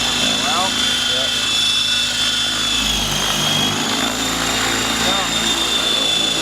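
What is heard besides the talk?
helicopter flipping over and flying inverted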